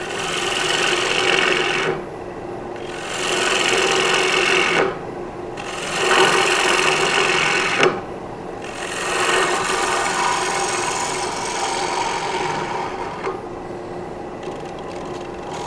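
Gouge cutting into a spinning cherry bowl blank on a wood lathe, a loud steady scraping hiss in long passes broken by brief pauses as the tool lifts away, with no talk.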